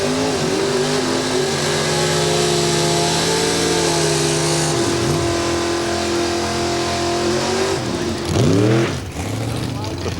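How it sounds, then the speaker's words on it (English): A drag racing car roars through a burnout at Santa Pod in 1992, its engine loud and close with rising and falling revs and a sharp surge near the end, while a commentator talks over it. "The burnout's completed"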